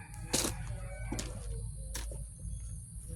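A rooster crows amid clucking chickens in a garden, with a few bright bursts standing out over a steady outdoor background hum.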